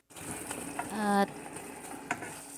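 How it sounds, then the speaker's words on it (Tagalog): Sardines and onion sautéing in a pan for sotanghon soup: a soft steady sizzle under clinks and scraping as a utensil stirs, with one short tonal squeak partway through. "gisahin natin yung sardines with onion"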